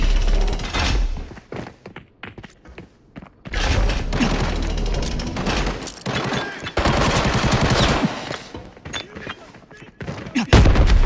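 Loud, dense automatic gunfire in the Arena Breakout video game, long sustained bursts broken by brief pauses, with heavy thuds, close and overlapping with other game noise and some talk.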